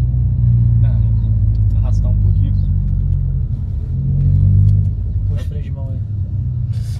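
A VW Jetta's engine rumbles and swells in a rev as the driver prepares a burnout with the handbrake pulled, a steady loud idle rising briefly before settling, with people talking over it.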